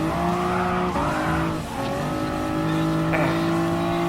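A Toyota Supra race car in Gran Turismo Sport, its engine roaring loud and continuous with gear changes and tire squeal, the pitch dipping and rising through corners.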